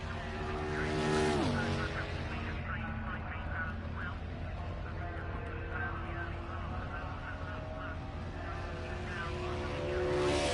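A race car engine drones steadily through laps of a simulated Brickyard 150 oval race, its pitch sweeping down early as a car passes, then holding a dense, continuous roar with faint commentary-style voices underneath.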